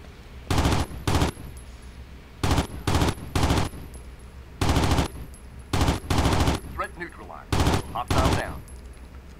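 Bursts of rapid automatic gunfire from the Athena Sword video game, about ten short volleys spaced by brief pauses, loud and close, with no talk over them.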